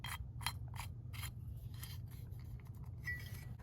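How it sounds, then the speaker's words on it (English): PVC conduit being screwed into the bottom of electrical boxes, heard as a series of short, faint scraping and rubbing strokes over a low background hum. "So here we need to thread in a PVC into the bottom of both of these guys."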